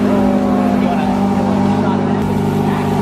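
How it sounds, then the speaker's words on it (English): A Porsche 918 hybrid supercar with a combined electric and gas engine runs at a steady idle, a loud, continuous close-up drone with a constant low hum and no revving. "So this is a hybrid engine, guys. It's electric and it's gas powered."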